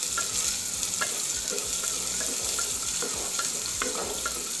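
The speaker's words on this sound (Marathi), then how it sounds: "1 चिरलेला कांदा, हा सुद्धा आपल्याला सूप मध्ये घालून घ्यायचा आहे आणि छान परतवून घ्यायचा आहे" Chopped onion sautés in a clay pot for mutton paya soup, a steady close sizzle broken by repeated stirring scrapes and knocks, with no talking.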